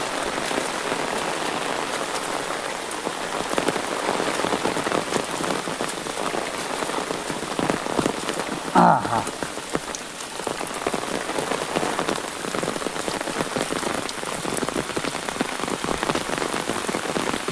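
Heavy rain pours down steadily and loudly on a surface, a dense continuous roar; a voice briefly speaks a couple of words midway.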